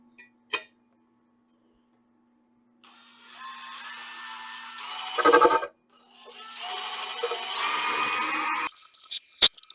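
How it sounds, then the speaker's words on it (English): A handheld power drill drives screws through a plastic milk jug lid into a piece of wood, with two sustained whirring bursts of several seconds each, close and fairly loud, broken by clicks and handling noises. "I've got some screws here, my handy dandy drill, and we're going to just attach this."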